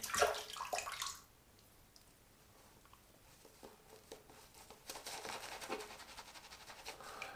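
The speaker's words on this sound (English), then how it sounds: "So, add a touch of water." A brief splash of water at the start, then quiet wet patter and soft squelching of shaving lather being worked with a brush, close by with no talking.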